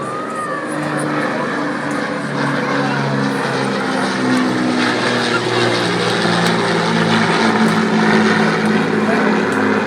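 Avro Lancaster PA-474, a 1945 four-engine heavy bomber, flying at the Southport air show, with a steady loud propeller drone filling the whole stretch amid open-air background noise.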